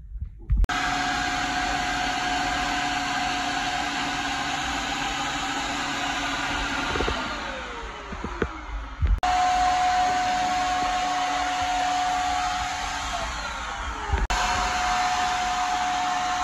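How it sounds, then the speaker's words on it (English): Electric paint sprayer running while painting in an RV bunkhouse being renovated, a loud steady whining motor hiss held continuously, briefly dipping and cutting off twice before restarting. "So I'm gonna do the paint sprayer, see what happens here."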